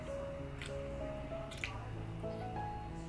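A juicy brisket sandwich with avocado drips and squishes up close, giving a few soft wet pops and squelches over a low, steady background hum.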